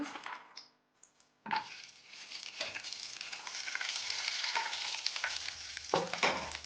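Cashew nuts fry in oil in a pan, giving a steady, close sizzle with stirring scrapes that starts after a brief quiet pause and grows slightly denser toward the end.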